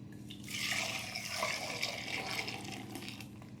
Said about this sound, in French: j'approche ma casserole et je reverse mon mélange.